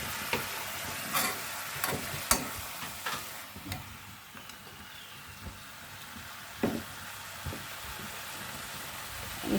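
Cumin seeds tempering with drumstick leaves in a hot pan give a steady, quiet sizzle with scattered sharp crackles and pops, alone with no talk.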